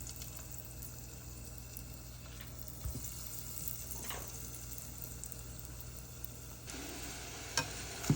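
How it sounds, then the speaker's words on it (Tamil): Fish cutlets deep-fry in hot oil, a faint, even, continuous sizzle and crackle throughout, with a couple of soft clinks near the end and no voices. "இப்போ பாருங்க நல்லா பொரிஞ்சு கொண்டு இருக்குது."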